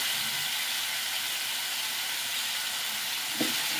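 Spice paste with salt frying in a pan for a fish dhania roast, giving a constant, even, bright sizzle with one small clatter near the end.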